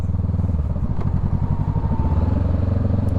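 A Honda Rebel 500 motorcycle being ridden gives a steady, loud engine drone with a fast pulsing throb. Wind noise runs underneath and no voices are heard.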